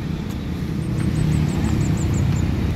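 A Gumarang Jaya bus rolls past with a heavy, steady low engine drone, while a string of evenly spaced high chirps sounds faintly over it through the middle.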